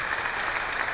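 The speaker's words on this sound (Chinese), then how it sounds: "我们再给爱多美公司一个热烈的掌声鼓励一下" Audience applause breaks out at a direct-selling company presentation, a steady, dense wash of clapping lasting the whole second at moderate loudness with no talk over it.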